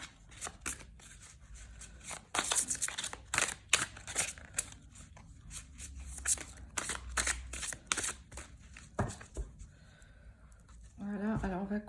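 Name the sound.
shuffling tarot cards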